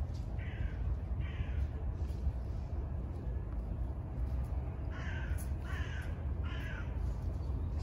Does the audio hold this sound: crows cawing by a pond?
yes